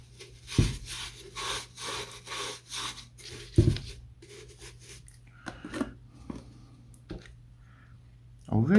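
French chic furniture paint browning wax is rubbed onto a painted furniture surface in repeated scrubbing strokes, giving dry brushing and rasping sounds. A few sharp knocks are scattered through it, with a steady low hum beneath.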